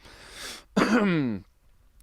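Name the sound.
cough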